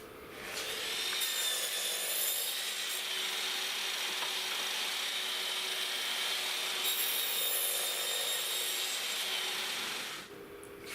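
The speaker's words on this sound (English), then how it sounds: "Now I'm going to go over to the miter saw and I'm going to cut each end square." A miter saw squares off the ends of a pallet wood board in one long, steady, loud cut of about nine seconds, with a bright whine running throughout and no talking.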